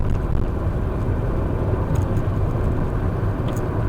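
A car drives along Hetton Road in Hetton-Le-Hole, northeast England, on a snowy day, with a steady low engine and road rumble heard from inside and holding constant throughout.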